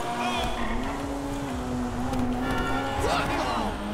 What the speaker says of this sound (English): sounds like a pure race car even though it's not a race car